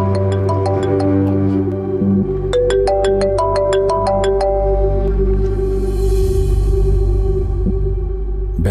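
A phone ringtone plays loud and close: a bright repeating electronic melody of chiming notes in quick runs, pausing briefly before the pattern starts again, over a steady low musical hum.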